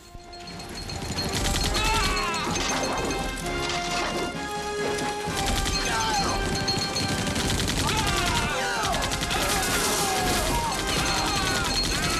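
An M60 machine gun fires in Call of Duty: Black Ops in dense, loud bursts, mixed with explosions, crashes and chaotic battlefield sound that continues without a break.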